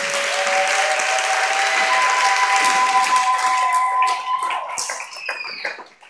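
A church congregation claps and cheers for Jesus in a dense, continuous round of applause, with a few sustained sung or shouted tones riding over it before it tapers off.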